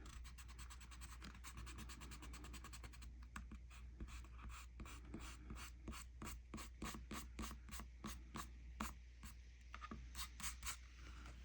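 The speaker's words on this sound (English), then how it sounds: "Now I'm going to take my eraser and I'm going to, as long as my ink is dry, I'm going to get rid of those pencil lines" An eraser rubs out pencil lines on paper beside dry ink on a starfish tile drawing, producing quick repeated scratchy strokes in a steady rhythm, close and fairly quiet, with no talking.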